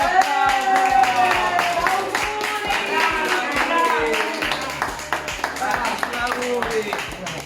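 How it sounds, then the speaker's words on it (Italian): A small group claps in a quick, even rhythm for grandpa Vincenzo's birthday during an interview at Casa Soll, with voices talking and calling out over the clapping throughout. "un applauso a nonno Vincenzo che oggi fa il compleanno"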